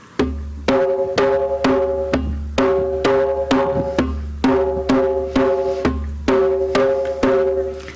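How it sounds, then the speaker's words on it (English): A drum groove at a winter solstice celebration repeats steadily: one deep bass boom followed by three sharp slaps, cycling for several bars at moderate tempo with no voices. "There's a bass, a boom, and then slaps, 3 slaps."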